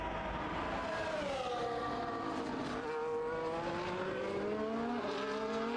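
F1 race cars at Monaco in the F1 24 video game whine through the streets, several engine notes rising and shifting in pitch as they accelerate and downshift, steady and moderately loud with no talk.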